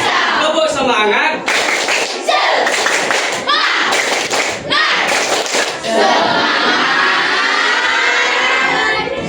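Classroom of students does a rhythmic spirit clap, loud and close, with patterned bursts of clapping and voices mixed in, then fading into a broad crowd noise.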